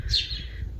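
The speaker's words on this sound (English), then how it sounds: "like the chirping birds in the background" Birds chirp in a garden, two short, bright tweets at the start and end, faint against a quiet background.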